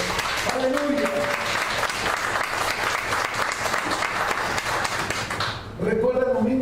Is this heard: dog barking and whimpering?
no